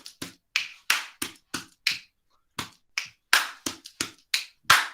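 A steady rhythmic pattern of finger snaps and claps with chest pats, evenly spaced percussive hits repeating over and over, crisp and close with no talking.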